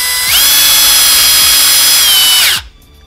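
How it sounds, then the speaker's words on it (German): A power drill bores a countersunk pilot hole into wooden wall paneling inside a DIY campervan, a loud close whine that spins up, holds steady for about two seconds, then cuts off abruptly. "Und dann bohrt ihr vor und dann seht ihr ein perfektes halbrundes Loch."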